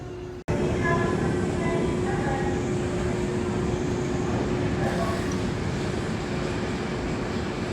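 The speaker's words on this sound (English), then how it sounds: "they're dispatching and that train just hit the brake run" An amusement park roller coaster train at Kings Island rolls into its brake run with a sudden onset and a steady rushing, grinding drone that persists at moderate distance.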